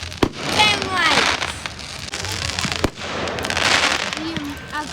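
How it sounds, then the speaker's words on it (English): Fireworks burst in quick succession, with crackling pops, whistles and sharp bangs layered close together, while excited voices talk over the display. "Look at all fireworks."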